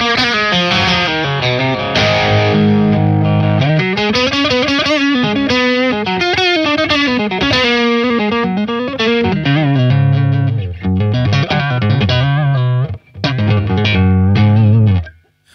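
Instrument played through a Walrus Audio EB-10 preamp with the mid-range boosted, a loud, continuous, effects-laden tone with shifting pitches, breaking off briefly near the end before a final swell.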